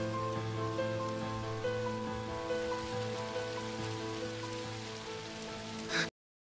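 Steady rain falling on an outdoor street in a Chinese romance drama, a dense continuous patter with a low tonal hum beneath, holding even throughout before cutting off abruptly near the end.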